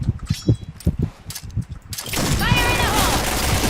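Rapid bursts of AUG gunfire in a video game crackle in quick succession, loud and close, giving way to a continuous noisy wash of game sounds.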